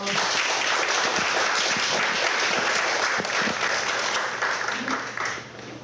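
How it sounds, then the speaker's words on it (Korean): An audience applauds after attorney Do Tae-woo's lecture at an academy session: dense, sustained clapping from a crowd, holding steady before tapering off at the end. "오늘 열강을 해주신 도태우 변호사님께 다시 한번 큰 박수 부탁드리겠습니다"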